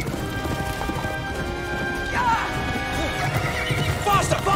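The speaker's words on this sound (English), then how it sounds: "Will, that was my horse!" A horse neighs and gallops nearby, loud whinnies rising over pounding hoofbeats and a busy, crashing background, while voices speak over the commotion.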